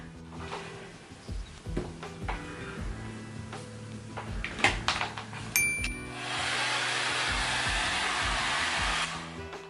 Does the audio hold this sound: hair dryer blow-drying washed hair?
yes